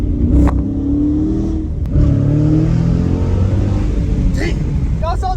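A manual Dodge Challenger engine revs up sharply during a downshift, a loud close roar rising and falling under a voice.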